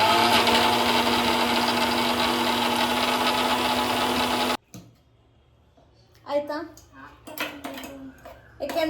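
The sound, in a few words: mixer grinder grinding chickpea paste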